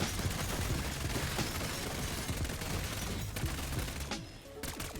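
An FFAR rifle in Black Ops 6 Zombies fires loud, dense bursts of rapid automatic gunfire almost without pause, with a brief lull near the end before shooting resumes.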